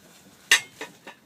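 Three sharp metallic clinks of cutlery against pans while French toast is cooked in a big frying pan aboard a boat, one loud strike followed by two softer ones in a quiet galley.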